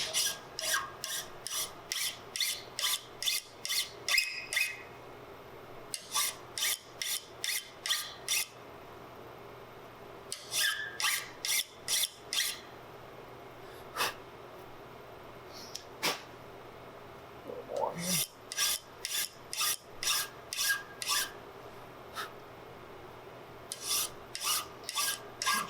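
A hand file rasps burrs off a metal part for a Southern Mountain Rifle kit. Repeated bursts of quick back-and-forth strokes are heard close up and alone, separated by pauses and a faint squeak.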